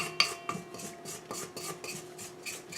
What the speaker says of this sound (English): I just want to quickly scrape down the sides.